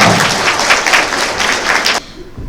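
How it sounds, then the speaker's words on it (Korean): Wedding guests in a convention wedding hall applaud the bride loudly and close by; the brisk, full clapping stops abruptly after two seconds, leaving quiet room tone. "큰 박수로 신부님께 응원을 좀 부탁드리면 감사하겠습니다"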